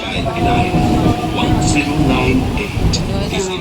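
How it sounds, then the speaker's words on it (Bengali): A moving passenger train rumbles and rattles steadily from inside the carriage on a trip from Sealdah to Mayapur, with people talking and chattering over the noise. "ট্রেনে উঠেছি তা আমরা যাচ্ছি ট্রেনে করে মায়াপুরে"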